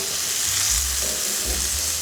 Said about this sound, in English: And now I'm going to stir the whole lot in together, the fennel and the mushrooms.